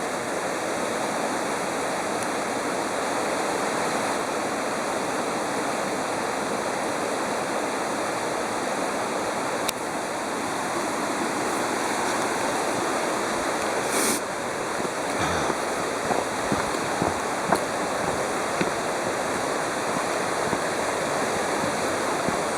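Mountain river in the Ariège rushing steadily below, a continuous broadband roar of flowing water heard from some distance, dense and unbroken with no voices.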